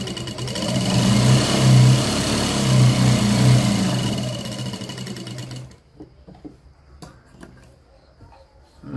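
A sewing machine runs steadily and loudly, stitching a blouse lining, then stops for a few seconds of quieter handling clicks and rustles.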